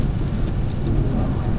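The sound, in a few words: heavy rain heard from a car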